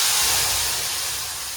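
Asafoetida dropped into hot oil as a tempering for bhungla bateta, a loud, close, hissing sizzle that starts at full strength and fades slightly over a second and a half.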